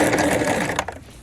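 A sewing machine runs briefly at close range, back-stitching the start of a pants seam, a short whirring burst that fades off.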